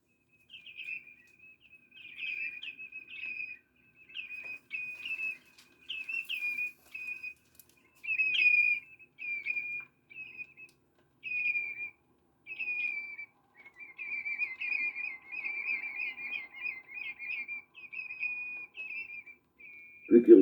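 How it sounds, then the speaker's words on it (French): Clear, piping common redshank whistles repeat in short bursts with brief pauses between them, carrying over an otherwise quiet outdoor background. "tels les sifflets des chevaliers gambettes"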